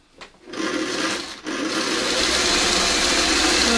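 A sewing machine stitches quilt pieces in a strip-pieced block, running with a loud, steady mechanical whir, starting briefly, pausing for a moment, then resuming continuously while taking a back stitch on a partial seam.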